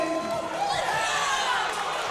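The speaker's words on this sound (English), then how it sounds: "Shane Holler is getting the crowd pumped up" Crowd at a powerlifting championship cheering and shouting in a large hall, a steady, fairly loud roar of many voices rising slightly, with no clear gaps.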